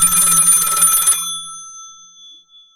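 An old-style telephone bell rings loudly in a single burst for about a second, then its metallic tone decays away into silence, with no voices.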